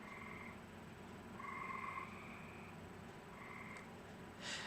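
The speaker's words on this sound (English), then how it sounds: "the frogs in my pond, which I'm sure you can hear quite loud and clear in the background" Faint frogs croaking in a pond in repeated trilling bursts over a steady outdoor background hum, with no voices.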